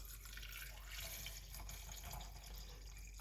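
Water poured into a blender for a beetroot, ginger and lime drink, a continuous splashing stream of liquid heard quietly and steadily throughout.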